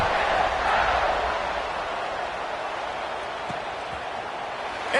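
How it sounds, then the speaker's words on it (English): Football stadium crowd buzzing after a score late in a tied fourth-quarter game involving Kentucky, a broad, steady roar of many voices heard from a distance, easing slightly over the few seconds. "this crowd is buzzing after that last score"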